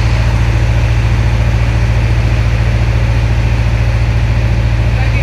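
The passenger launch MV Farhan 7 approaches a river pontoon, its heavy engine throbbing in a loud, steady low pulse that stays constant throughout.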